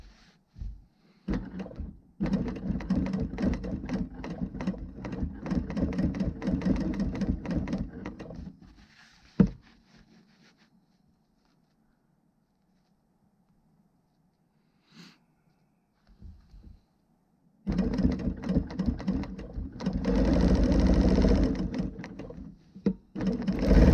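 A Handiquilter Versa quilting machine runs in two loud stretches of rapid mechanical stitching as it follows a ruler, separated by a quiet pause with a few soft knocks and handling sounds.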